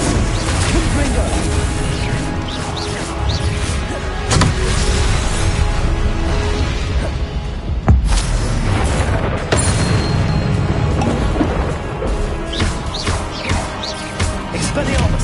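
Confringo fire spells blast in Hogwarts Legacy amid dense combat noise, with booming impacts, crashes and whooshes layered over a loud, busy game soundscape and occasional spoken spell casting.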